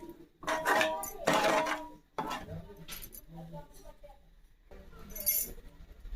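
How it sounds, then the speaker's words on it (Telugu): Fish pieces go one by one into a pot of Godavari-style fish pulusu curry, with clattering of a utensil against the pot and soft clinks and thuds, while a person talks. "ఇప్పుడు మనం చేప ముక్కల్ని ఒక్కొక్కటిగా కూరలో వేద్దాం."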